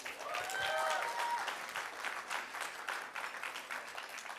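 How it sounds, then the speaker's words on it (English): Wedding reception guests applaud steadily for a few seconds, a soft, even wash of clapping heard from a distance in a hall, with no talk over it. "Let's give a huge round of applause for Justin."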